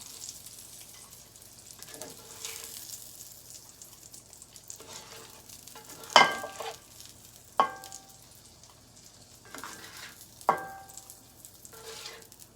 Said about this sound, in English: Turn this pan down. Because next, we're going to make the gravy.